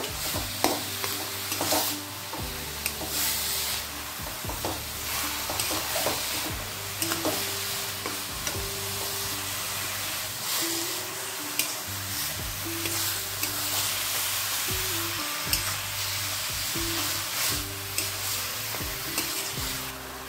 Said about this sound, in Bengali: এবার হলুদ লবণটা দিয়ে ভালো করে লাউয়ের সঙ্গে মিশিয়ে নেব।